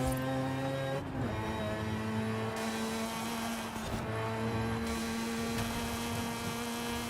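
A car engine in Forza Horizon 5 revving hard through gear changes, a steady droning tone stepping up and down with brief dips at shifts, close and continuous, no voices.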